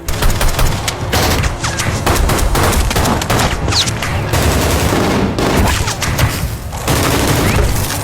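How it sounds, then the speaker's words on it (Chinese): Dense rifle gunfire fills a war-film battle in a village, with an AK-style assault rifle firing continuous loud rapid bursts, booms and cracks layered over each other without pause. "梅西拿到武器之后火力全开，拿着一把阿卡4器对付整个村庄的武装分子"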